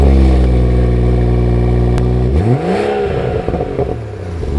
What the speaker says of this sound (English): It's quiet up until the cold start comes off.